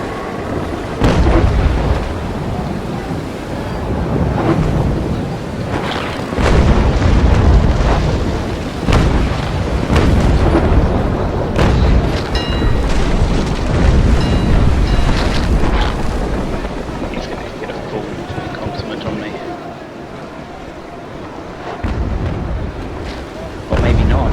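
Heavy booms of ship cannon fire roll across a naval battle in Naval Action at sea in a swell, loud and layered with roaring wind and rumbling, someone speaking intermittently.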